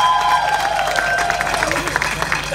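Audience applause breaks out at a memorial park dedication, a short burst of clapping from the crowd mixed with voices and some cheering.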